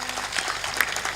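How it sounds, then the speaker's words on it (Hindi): An audience at a Hindi religious discourse breaks into dense, steady applause, many hands clapping together in a fairly close, lively burst that fills the whole moment. "ताली बजा दो।"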